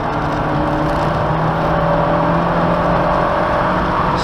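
A car engine held under hard acceleration, a loud continuous drone with steady engine tones sustained throughout, close up with no speech.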